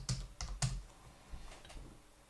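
Keys clatter on a computer keyboard as a new password is typed for a shop login, with a few sharp clustered strokes followed by softer, sparser taps; no voices.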